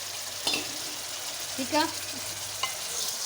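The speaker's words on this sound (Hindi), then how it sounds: "अदरक लहसुन के पेस्ट के साथ हम चिकन डाल लेंगे और इसको हम अच्छी तरह से भून लेंगे" Chicken fries with ginger-garlic paste in a karahi for aloo chicken karahi, a soft steady sizzle with a few brief stirring scrapes and clinks, while a voice speaks briefly.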